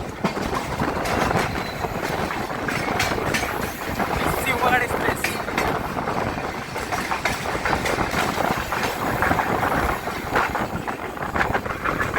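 An express train running on Mumbai's Western line from Kalyan toward Vasai, heard from on board as a steady rumble with rhythmic clickety-clack of wheels over rail joints, with voices talking nearby.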